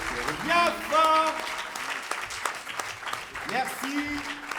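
Theatre audience applauding at the close of a stage show, steady clapping running under speech and a held sung or voiced tone throughout.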